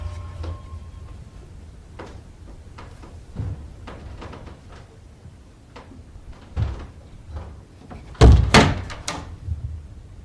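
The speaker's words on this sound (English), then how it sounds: "opens the door to find nothing" A door swings open in a quiet house, with a few faint taps and creaks and then a sudden heavy thunk and rattle near the end, loud and close, with no talking.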